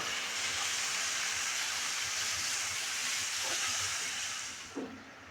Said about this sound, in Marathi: मेथी थोडीशी फ्राय झालेली आहे